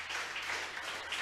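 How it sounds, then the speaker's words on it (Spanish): Applause from a church congregation, steady dense clapping rising and falling slightly in waves across the short stretch, moderately loud and with no talking over it. "Alguien le aplaude a Jesús por esto"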